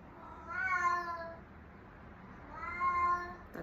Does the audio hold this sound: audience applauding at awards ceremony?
no